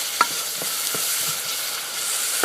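Red curry paste and sauce cooking down in a pan for Khaub Poob soup, giving a steady soft sizzle with occasional faint stirring scrapes and clinks, close and alone without talk.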